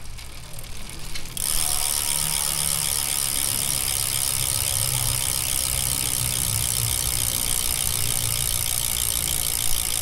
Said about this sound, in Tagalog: yan yung tunog ng hubs ng Weapon TAC kapag naka free wheel